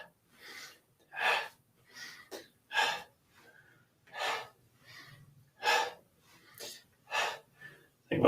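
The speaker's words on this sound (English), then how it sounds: "So exhale out the mouth as we drop. Inhale through the nose as we come up." Rhythmic breathing exercise at close range, with sharp audible inhales through the nose alternating with breathy exhales through the mouth, about ten quick breaths in a steady pattern.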